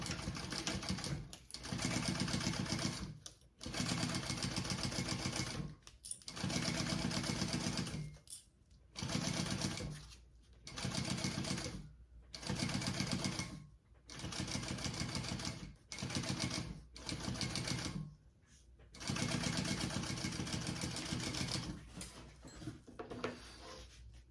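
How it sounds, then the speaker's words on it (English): A home sewing machine runs in steady bursts, stitching a full seam allowance on a Yoshi sling backpack panel, the motor whirring loud and close with short pauses between each run of stitches, no talking. "I'm going to sew at that full seam allowance."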